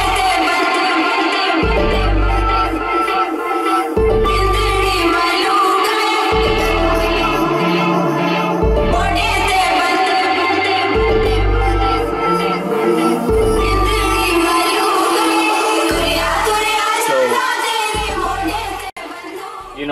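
An EDM track built on a Punjabi folk sample plays loudly, with pulsing bass hits, a dense synth and vocal layer and a steady beat throughout.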